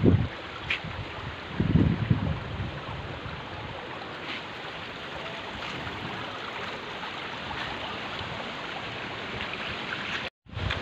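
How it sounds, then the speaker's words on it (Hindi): Outdoors in Gilgit-Baltistan, steady wind and light drizzle make a continuous broadband rushing hiss with a few louder gusts near the start, carrying on evenly with no talking until a brief dropout near the end. "बहुत ही खूबसूरत बूंदाबांदी हो रही है और हवा भी बहुत प्यारी हवा चल रही है।"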